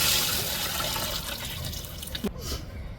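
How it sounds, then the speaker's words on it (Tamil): Tamarind water poured into a pan of sautéed tomato and vegetables for a fish curry, giving a steady liquid wash that fades toward the end, with a faint clink near the close. "இப்போ கரைச்சி வச்சுருக்கிற புளி தண்ணியை சேர்த்துக்கிடுவோம்"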